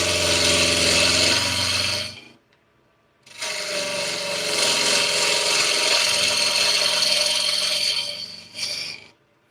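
A bowl gouge cuts into wood spinning on a lathe, giving a loud, close, continuous scraping hiss that breaks off for about a second and then resumes in a long steady pass.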